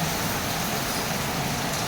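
A dense, even roar of heavy rain falling outside a small store in Quezon City, constant and close with no voices.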